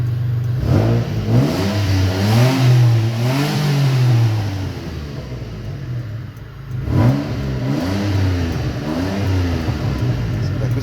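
Mitsubishi sedan engine revving up and down in several swells, close and loud, settling toward idle between rises with a second rev near the end.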